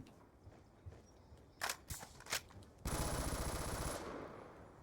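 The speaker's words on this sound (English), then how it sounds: "Already, we're getting shot at." Gunfire in Call of Duty Black Ops 2: a few scattered single shots followed by a longer burst of rapid automatic fire, fairly loud against quiet game background.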